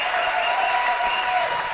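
Steady applause from a large crowd at the US Open racquetball finals, a dense, continuous clapping that fills the whole moment with no talk over it.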